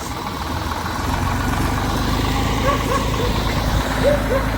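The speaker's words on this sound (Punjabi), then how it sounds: "ਆਪਣਾ ਟਰੈਕਟਰ ਚੱਲ ਪਏ ਨੇ" Several tractors idle and rumble steadily with a low diesel drone throughout, gathered for a Sangrand langar procession to a gurdwara, with faint background voices and an occasional distant dog bark.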